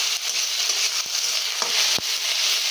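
A spoon scrapes and stirs vegetable curry in a hot pan just after salt goes in, with a loud continuous sizzle and a few sharp knocks against the pan.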